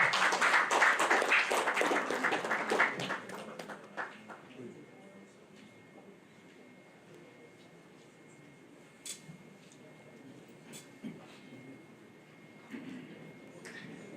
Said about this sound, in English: please, a round of applause to Dr. Stephen Akintayo.